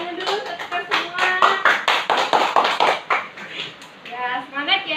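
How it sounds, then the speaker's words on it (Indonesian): A group of women at a family welfare meeting claps hands in unison in a rhythmic pattern, loud sharp claps with short pauses, mixed with voices chanting and talking along. "Tepuk tangan dulu"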